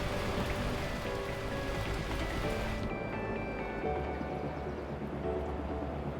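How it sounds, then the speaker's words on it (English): Torrential rain in the video game Beacon Pines pours as a steady dense hiss of drops hitting surfaces, with a low rumble coming in partway through. "At that moment, the heavens opened up, unleashing torrential rain."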